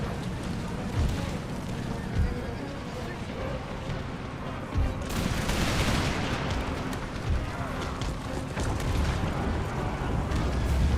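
Musket and gun volleys crackle throughout an Empire Total War battle, with repeated sharp bangs and heavier booms over a dense roar of battle din, loud and continuous.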